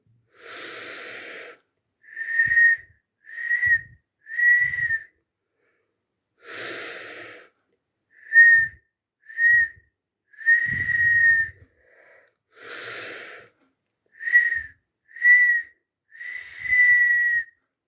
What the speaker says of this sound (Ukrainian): видихаючи, будемо посвистувати три рази